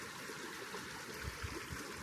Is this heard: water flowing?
yes